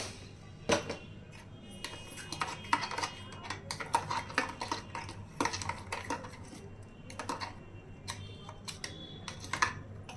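A spoon stirs sugar into watermelon juice, making a steady run of sharp clinks and taps against the glass. The clinks come close and clear throughout, with some quick clusters and no talking.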